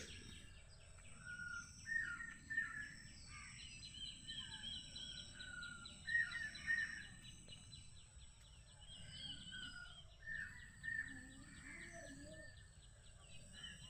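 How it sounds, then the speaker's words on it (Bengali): Birds chirp and call all around on a rainy morning among wet trees, repeated twittering phrases rising over a steady low rumble of rain and ambient noise, with occasional faint speech. "পাখির চারিদিকে কিচিমিচির আওয়াজ"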